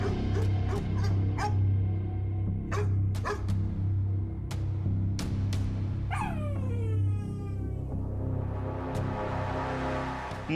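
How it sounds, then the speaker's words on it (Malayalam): Several stray dogs bark in short repeated bursts outdoors, with yips and a drawn-out whine or howl partway through, over a steady low hum of background noise. "മാലിന്യം വലിച്ചെറിയുന്നത് മൂലമാണ് തെരുവു നായ്ക്കൾ വർദ്ധിക്കുന്നതെന്ന് ഒളവണ്ണ ഗ്രാമപഞ്ചായത്ത് പ്രസിഡന്റ് പി ഷാരുതി"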